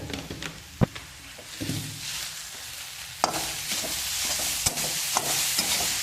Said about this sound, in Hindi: गाजर को अच्छे से भून लेंगे।